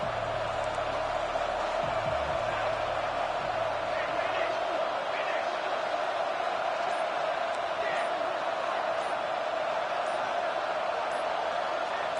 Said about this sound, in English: And with this place rocking, the crowd forces a false start.